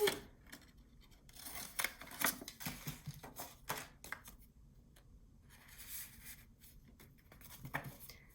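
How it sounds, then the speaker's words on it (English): Scissors cut a paper scrap with a quick series of close, crisp snips and rustles. The cutting thins out into quieter paper handling, and there is no talking. "I'm just gonna cut another scrap just to show you."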